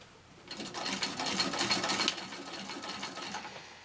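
A Singer Model 15-91 sewing machine stitches a patchwork flat cap in a steady, fast mechanical whir. It rises after a half-second of quiet and runs close and alone for about three seconds before easing slightly.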